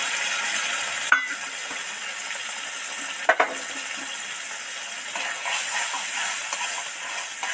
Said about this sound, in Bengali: সর্ষে পোস্ত তো যাতে কাঁচা গন্ধ চলে যায়, 2 মিনিট ধরে ভালো করে নেড়ে চেড়ে কষতে থাকবো।